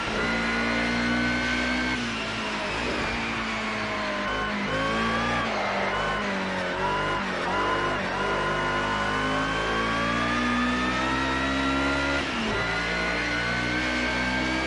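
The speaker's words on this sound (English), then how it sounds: "This BMW's got some long gears on it." A BMW race car in Project Cars 2 revs hard through long gears, its engine note climbing steadily and loud without pause, carrying on alone throughout.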